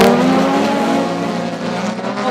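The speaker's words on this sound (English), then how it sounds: "Hallo, weg is hulle daarso met Eugene Zogby." Race cars pull away at the start of a heat on an oval track, a loud blend of engines revving as the pack accelerates, fading slightly toward the end.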